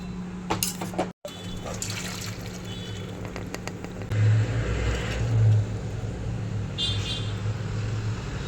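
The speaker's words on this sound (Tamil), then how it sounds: "தண்ணியை வடிகட்டி எடுத்துடலாம் ராகியை." Water trickles and drains steadily from soaked ragi (finger millet) with a constant splashy hiss, and a low background rumble runs underneath.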